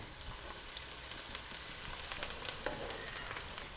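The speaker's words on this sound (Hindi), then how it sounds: "प्याज को हमने गोल्डन कर लेना है।" Finely chopped onions sizzle in hot oil in a pan as they turn golden, a soft steady crackle with scattered sharper pops and no talking.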